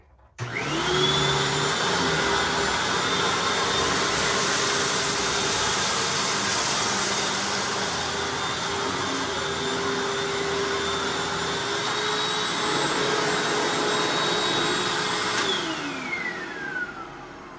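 A Hoover Anniversary upright vacuum cleaner runs with its brush roll on over low carpet, a loud, steady motor whine with a rushing airflow that starts abruptly, holds for about fifteen seconds, then winds down at the end.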